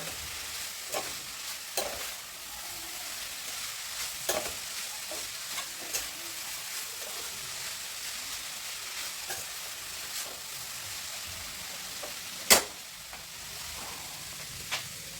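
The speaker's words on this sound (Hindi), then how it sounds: "तो हमने मसालों को मूली के अंदर अच्छे से मिक्स कर लेना है चम्मच से।" Grated radish mixed with spices by spoon in a kadhai, a faint low sizzle beneath scattered scrapes and taps of the spoon against the pan, one sharper clink near the end, no talk.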